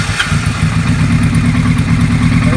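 The engine of a 1976 Kawasaki KZ900A motorcycle with starter clutch trouble runs loud and close, a steady throbbing mid-pitched rumble with no clear start or rev change.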